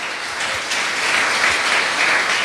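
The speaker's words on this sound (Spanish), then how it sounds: "Denle un fuerte aplauso al Señor." A church congregation applauds, a dense and steady burst of clapping filling the space with no voices over it.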